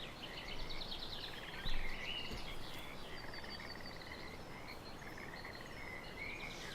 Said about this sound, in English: We'll catch that frog one day.